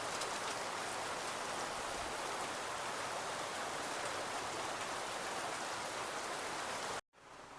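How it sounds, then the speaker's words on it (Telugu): Heavy rain pours down in Secunderabad, Hyderabad, a dense, steady roar of drops hitting surfaces that runs loud and unbroken for about seven seconds before abruptly cutting off. "ఇప్పుడైతే సికింద్రాబాద్లో ఫుల్ అయితే వర్షం అయితే కురుస్తుంది."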